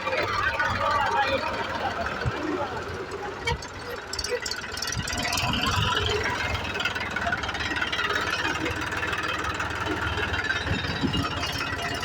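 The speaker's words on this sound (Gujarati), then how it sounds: "હવે અમારું ટ્રેક્ટર લઈને અમે જઈએ છીએ બીજા લોકેશન ઉપર." A tractor engine runs steadily while the tractor drives between locations on a farm with a five-year-old mango orchard, giving a continuous loud mechanical drone with rattling over roughly twelve seconds.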